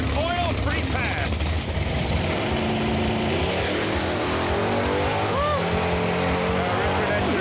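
A 1990 Ford Mustang GT roars through a drag racing pass at a Pass Time event, its engine a loud, steady drone, with voices talking over the noise.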